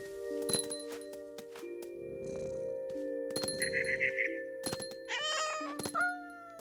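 A cat meows in the video game What Remains of Edith Finch, with several distinct meows, the clearest and most tonal near the middle and end, heard over a sustained ambient game score with occasional chiming accents.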